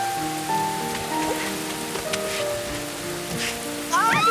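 Rain falls steadily on an island beach, a soft, even patter that stays in the background beneath louder music.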